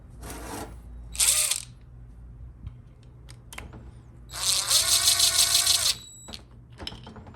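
A tool tightens the 8mm bolt on a GM 4L60E transmission pump during a rebuild, giving two short buzzing bursts, scattered clicks, then a longer whirring run of about a second and a half, close and fairly quiet.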